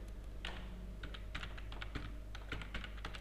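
Keystrokes on a computer keyboard clatter in quick irregular bursts, close and fairly quiet, with short pauses between runs of taps and no voices.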